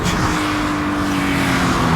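A loud Toyota GT86 sports car engine roars continuously at high revs, steady and close, with no voices.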